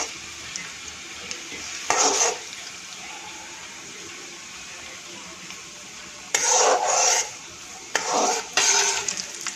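Urad dal fries in hot oil for lemon rice, a soft hiss of frying broken by several bursts of louder scraping and stirring in the pot, close, without speech.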